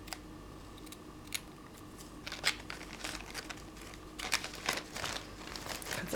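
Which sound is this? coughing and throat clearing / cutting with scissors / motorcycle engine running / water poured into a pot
cutting with scissors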